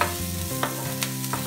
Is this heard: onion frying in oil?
yes